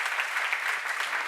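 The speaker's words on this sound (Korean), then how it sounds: "빨리 박수 주세요" A church congregation at a seminar on Second Corinthians applauds in a dense, steady burst of many hands clapping together, sustained and fairly loud with no pauses.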